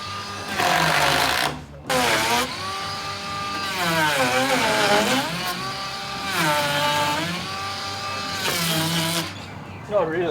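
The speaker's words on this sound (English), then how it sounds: "make sure everything is flat and surfaces are even, shaving back any high spots." A power tool shaves back high spots on a house floor during a two-storey renovation, before floorboards are laid. Its whining motor rises and falls in pitch in several bursts, with a voice talking over parts of it.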